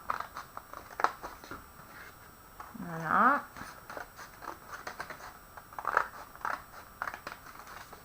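Scissors snip through paper strips in scattered close cuts, with a brief spoken word partway through and light handling noise between the cuts.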